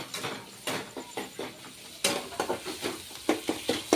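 Cluster beans are stirred in a hot frying pan with salt and turmeric, giving a series of sharp scraping and clattering spoon strokes against the pan over a soft sizzle, in an irregular rhythm, close and fairly quiet, with no talk.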